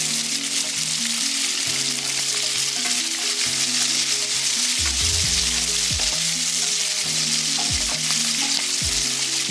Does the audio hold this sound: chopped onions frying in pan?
yes